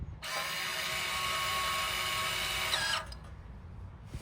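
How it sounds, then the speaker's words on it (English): An electric parking brake motor retracts the caliper piston with a steady, close whirring hum that runs for about three seconds, then cuts off into near silence. "Once you hear that humming noise, that is the motor retracting the piston."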